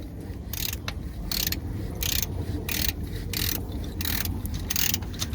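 A ratcheting socket wrench with a 24mm socket loosens a bolt during an oil change, giving a steady series of about eight rhythmic clicking strokes, close and loud over a low background hum.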